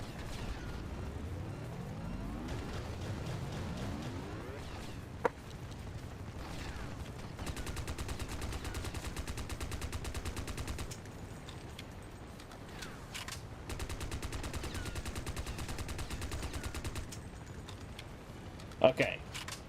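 Gunfire in James Bond 007: Nightfire on PC, with bursts of rapid automatic shots that run for several seconds at a time, separated by brief pauses and set over a steady game background.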